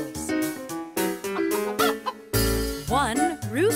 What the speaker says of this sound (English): One rooster.